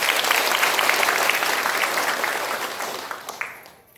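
An audience at a community meeting of the Dhivar Samaj claps loudly, a dense burst of applause that carries on for several seconds before fading away.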